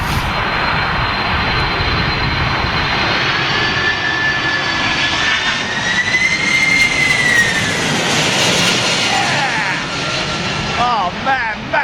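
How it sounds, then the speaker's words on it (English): Airliner jet engines spool up during a windy, gusty landing approach at London Heathrow, a loud continuous roar with a rising whine that swells in the middle, steady and close throughout with wind buffeting. "A little power up from the engines."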